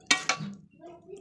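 Puffed rice (muri) being mixed by hand in a bowl, two sharp clinks against the dish followed by soft rustling and low scraping, close and fairly quiet with no talk.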